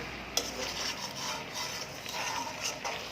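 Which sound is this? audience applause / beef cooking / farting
beef cooking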